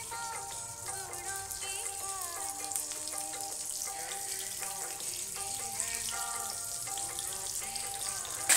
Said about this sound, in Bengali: ভাজা হয়ে গেছে, আর একটু ভেজে নেবো